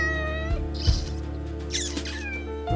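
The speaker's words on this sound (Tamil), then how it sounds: "எலிய பூனை சாப்பிட்டுருக்குன்னு பார்த்தா அது கூட விளையாடிக்கிட்டு இருக்கு" A house cat meows in a Tamil TV drama scene with a mouse nearby, several harmonic meows and short yowls spread across a couple of seconds, fairly close and clear over a faint background hum.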